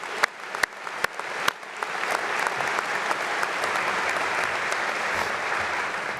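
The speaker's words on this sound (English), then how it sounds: "So let's just give a round of applause to those incredible individuals." An audience at a medical school diploma ceremony breaks into applause, a few separate claps growing into a sustained, dense round of clapping that fills the hall and continues steadily to the end.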